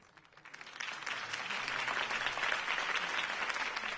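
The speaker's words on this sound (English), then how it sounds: "If only Mr. Wayne, my campaign's largest backer, could have heard that applause" Crowd applause at a Harvey Dent campaign rally, rising from quiet into a sustained wash of clapping that holds steady and fairly loud for several seconds.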